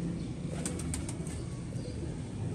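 Pigeons coo and flap their wings close by, with a cluster of quick wingbeat bursts rising above a loud, dense, continuous rustling background.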